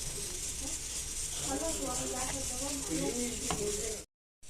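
Washed rice and roasted moong dal for jaggery pongal sizzle and hiss steadily in a hot pan while being stirred, a continuous close frying noise with faint scraping, cut off abruptly near the end.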